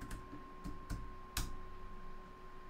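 Several separate keystrokes on a computer keyboard entering a password on Ubuntu 21.04, a few sharp clicks spaced irregularly, close and clear over a faint steady hum.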